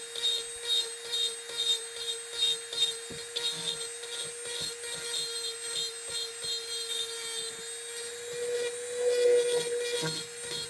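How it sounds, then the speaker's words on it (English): A Dremel rotary tool carves a cauldron creep prop, giving a steady, close, high-pitched whine that holds throughout and shifts slightly as the bit bites into the material, with no talking. "just letting the Dremel do the work"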